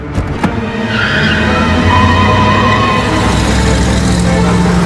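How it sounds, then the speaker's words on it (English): Two armored cash transport trucks pull away together, a loud, steady rush of vehicle engines and road noise with a brief tire squeal near the start, continuous and close throughout. "그때 두 대의 현금 수송차 모두 출발하고"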